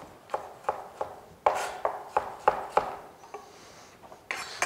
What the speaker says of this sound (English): So we'll julienne these.